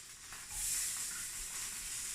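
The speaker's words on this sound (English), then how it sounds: "I'm going to give it a flip with my spatula" A fish fillet cooking in a pan for a fish taco, a faint close sizzle that swells briefly as it is turned, with no voices.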